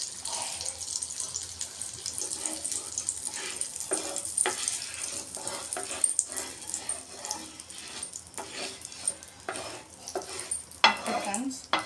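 Cold butter from the fridge melts in a pan for tandoori chicken, giving a quiet, uneven sizzle and crackle mixed with light scraping and stirring sounds.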